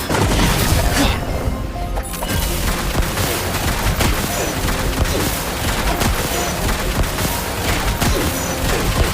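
Loud, dense bursts of explosions and crashing impacts fill the whole stretch, thudding continuously with no letup, from bombs going off in the video game Genshin Impact.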